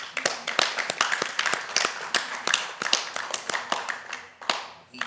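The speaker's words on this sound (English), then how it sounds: "I think we have to give all these children a big clap" A small audience claps for children at a temple gathering, a lively stretch of uneven, close hand claps with a few distinct taps standing out.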